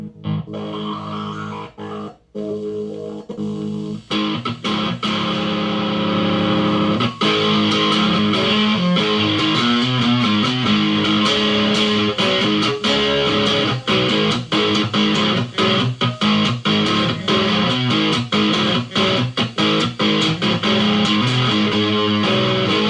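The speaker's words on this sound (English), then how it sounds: "I'm using a little bit of distortion on the amp here. This is a Fender Mustang amp." A dual-pickup 1922-style cigar box guitar played through a Fender Mustang amp with heavy distortion, thick saturated chords and riffs ringing continuously and loud after a few brief opening strums.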